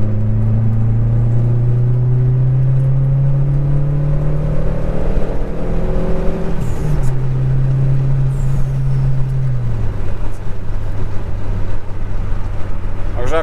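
A Fiat Coupe 2.0 16v Turbo engine roars loudly as the wheels spin in second gear, its pitch climbing steadily, dipping at a gear change, then rising again, with someone talking over it.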